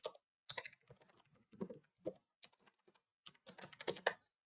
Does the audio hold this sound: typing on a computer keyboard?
yes